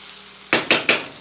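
A spoon clanks against a pot of arroz con gandules being mixed, three sharp metallic scrapes and knocks in quick succession, close and fairly loud, with no talking.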